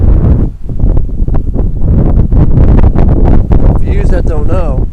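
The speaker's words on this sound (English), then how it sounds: "Now it's pretty windy out." Strong wind on a pier over Tampa Bay buffets the microphone with a low, continuous rumble while someone talks loudly over it.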